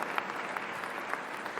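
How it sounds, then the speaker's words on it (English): A ceremony audience claps steadily for a singer, a dense, even patter of many hands at moderate distance, fairly quiet and without speech. "give him a round of applause, please"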